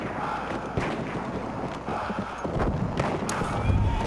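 Horse hooves clip-clopping at a gallop in the Battlefield 1 video game during a Conquest match at Fao Fortress, heard steadily amid game noise and some background voices.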